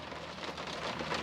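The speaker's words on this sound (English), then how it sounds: "Just can't believe it's been raining non-stop like this for hours." Steady rain drumming on a car roof, heard from inside the vehicle during a long downpour; a dense, continuous patter with no talk.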